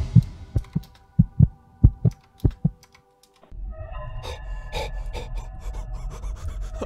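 Minecraft cave ambience, garbled by repeated machine translation, opens with eight evenly spaced, heartbeat-like low thuds. After a short silence, a dense rasping, humming drone takes over.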